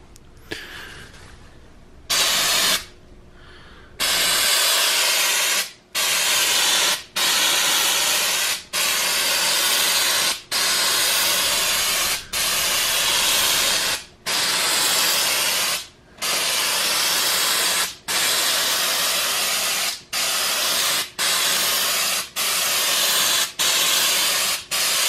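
Aerosol spray paint applied in coats to the bare bottom of an aquarium to make fake sand: a long series of loud, close hissing bursts of a few seconds each, separated by brief pauses.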